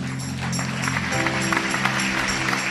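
A church congregation breaks into loud, sustained applause at a worship service, a dense wash of clapping hands filling the room, with music and a voice faintly underneath.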